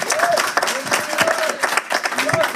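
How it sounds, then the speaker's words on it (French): A studio audience at a live public broadcast applauds a winner in a lively burst of clapping, with voices and cheering mixed in and talk running over the claps. "Merci Mathieu, on peut l'applaudir."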